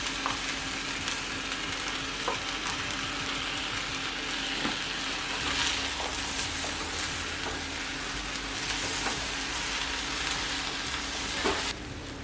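Shrimp and vegetables cooking with bulgur wheat in a pan, a steady close sizzle and fry with faint scraping and stirring throughout, no talk.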